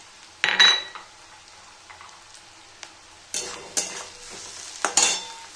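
Grated ginger and garlic frying with onions in a pan for chicken curry, a low sizzle under sharp metal spatula scrapes and clinks against the pan, several distinct strokes, close by.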